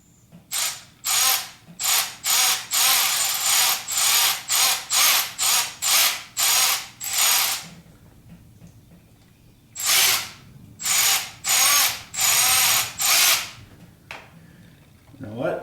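A power tool tightens a fastener on a heater hose of a 1976 Corvette restomod, firing in rapid, loud ratcheting bursts close by, a long series of pulses, a pause, then another run of bursts.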